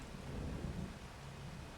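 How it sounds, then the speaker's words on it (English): Rain falls with a low rumble of thunder in a steady, faint wash, quiet and distant throughout, with no voices. "And it's raining."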